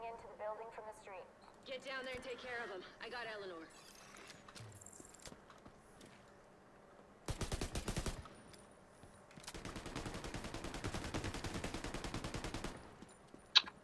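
Gunfire in the video game The Division 2 breaks out in two dense bursts, a short one then a longer sustained rattle, following stretches of speech with background game sounds.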